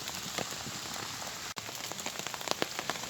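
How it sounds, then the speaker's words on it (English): Heavy rain drums steadily on a surface at a wet wild camp among tombstones, a dense continuous patter with brief heavier drops, close and loud throughout with no voices. "Still hammering it down with rain."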